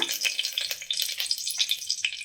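Crushed garlic drops into hot tempering oil for palak dal, giving a bright, crackling sizzle with quick pops and spits close by, without speech.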